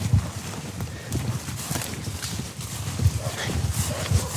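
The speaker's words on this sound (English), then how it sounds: "just going up on a dun horse" A dun horse's hooves clip-clop in a quick, uneven rhythm at close range, with rustling and faint voices in the background.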